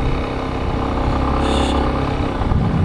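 Motorcycle riding slowly on a rough, bumpy dirt road in the Brazilian sertão, its engine a steady, close mid-pitched drone with slight rattling throughout.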